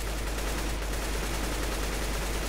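Sustained automatic gunfire rattles densely and loudly in Counter-Strike: Global Offensive, a continuous fusillade of rapid shots with no pauses and no talking.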